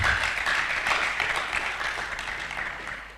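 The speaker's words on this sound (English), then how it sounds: "A round of applause for our guests," An audience claps for the guests at a book and arts festival, steady applause that stays fairly loud for a few seconds and then begins to taper off.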